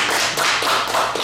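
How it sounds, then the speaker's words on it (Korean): Audience applause in a lecture hall, a loud dense burst of many hands clapping together, close and continuous for a brief moment with no talking over it. "일단 박수"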